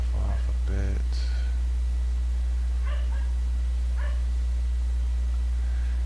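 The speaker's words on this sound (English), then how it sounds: "That's the dogs barking in the backyard" Dogs barking in a backyard, heard as a few short barks and yips at a distance over a steady low hum, with a voice briefly audible.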